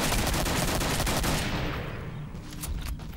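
A dense burst of rapid automatic gunfire in the video game Killing Floor rattles loudly, then tapers off into a few sporadic shots and background noise.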